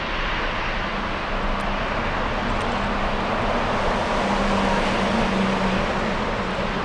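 A Lufthansa Boeing 747-8 rolls for takeoff on runway 25 center at Frankfurt, its jet engines making a loud, steady broadband roar with a low droning hum, sustained and distant-to-mid range.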